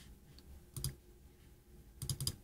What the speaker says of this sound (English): people can say, right mouse click,